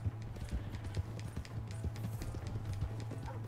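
Horse hooves clip-clop at a steady trot in the video game Red Dead Redemption 2, close and moderately quiet, a continuous run of soft thuds with no talk over them.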